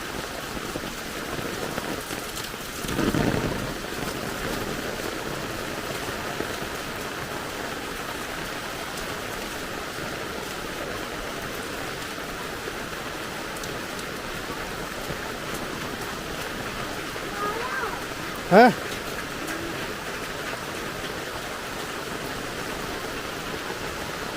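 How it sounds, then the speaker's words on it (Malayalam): Heavy rain pouring steadily at a house in Kerala, a constant wide hiss of falling water with a faint knock or two breaking through. "ആ, ഭയങ്കര മഴയാ."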